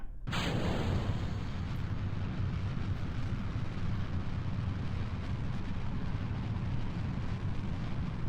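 Rocket launching at full throttle in Kerbal Space Program, a sudden loud ignition swelling into a sustained, dense roar that holds steady without letup.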